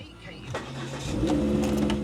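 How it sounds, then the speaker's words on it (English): A Volvo C30's engine cranks briefly, then catches and settles into a steady running hum, close by. "Should we fire her up?"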